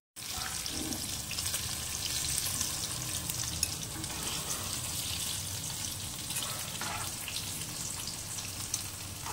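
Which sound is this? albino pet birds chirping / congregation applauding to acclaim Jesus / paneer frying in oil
paneer frying in oil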